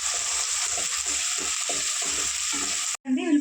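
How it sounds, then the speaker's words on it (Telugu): Two large sliced onions and four slit green chillies fry in a pan, a loud, bright sizzle broken by regular scraping stirs before it cuts off abruptly near the end. "ఉల్లిపాయలు వేగిపోయినాయి కదా."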